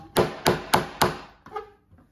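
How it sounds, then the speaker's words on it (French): A small hammer strikes a drilled lock cylinder to knock out pin fragments: four sharp, evenly spaced metallic knocks close up, then two softer taps fading at the end. "on prend un petit marteau, on tape sur la serrure pour faire tomber des morceaux de piston"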